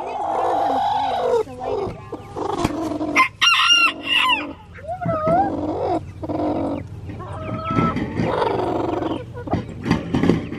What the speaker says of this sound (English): Oh, now we got 3 hens in here.